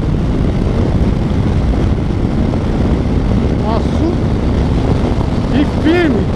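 Harley-Davidson Low Rider S 2020 motorcycle engine while riding, a loud, steady rumbling drone with wind roar and a voice talking over it.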